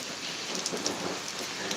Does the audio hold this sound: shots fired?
no